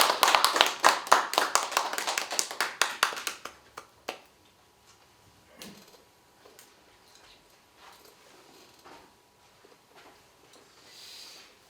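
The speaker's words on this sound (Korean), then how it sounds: "여기 나오실 때 박수로 환영해 주시면 좋겠습니다" A Korean commemorative gathering gives a short round of welcoming hand claps, fairly close and brisk for about four seconds, then dying away into a quiet room with scattered faint shuffles and movement.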